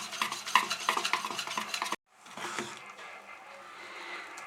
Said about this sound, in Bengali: আমি আগে মিশিয়ে নিচ্ছি